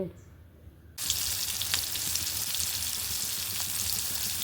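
Small tuna frying in a hot pan sets off a sudden loud, dense sizzle that starts after a quiet second and holds steady at close range, with faint speech briefly in the background.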